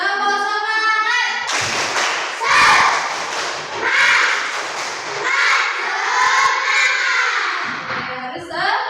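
A school class doing the rhythmic "tepuk semangat" clapping routine, several bursts of group claps and thumps in patterned beats, mixed with children's voices chanting along.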